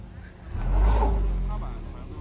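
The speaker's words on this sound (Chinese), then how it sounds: "老表，你这油门加着往后面退。" An SUV engine swells in a low rev while backing up a steep off-road hill climb slope, a heavy rumble peaking and easing, with voices talking over it.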